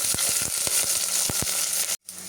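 Big onion, dried fish, mustard seeds, urad dal, garlic, curry leaves and pandan leaf sauté in oil in a pan for a baby potato curry: a close, continuous sizzle with rhythmic spoon knocks. It cuts out briefly near the end.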